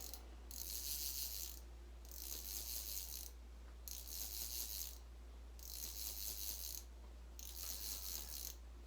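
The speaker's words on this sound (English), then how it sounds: "first thing I'm going to do is just strip down my fly line" A fly reel's click-pawl ratchet buzzes in five steady bursts, each about a second long with short pauses between, as fly line is stripped off the spool. The sound is close and clear over a low, constant hum, with no talking.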